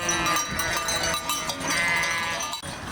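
A flock of ewes on transhumance in Lunel bleats continuously, many overlapping calls mixed with clanking bells, fairly close and busy throughout.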